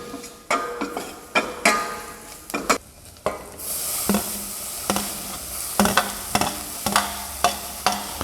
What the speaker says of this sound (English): add onion and tomatoes. Saute onion.